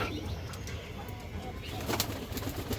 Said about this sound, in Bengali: বড় একটা মুসলদম নর কবুতর আছে